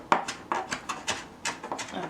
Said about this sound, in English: I'm just chopping up my Scotch bonnet pepper here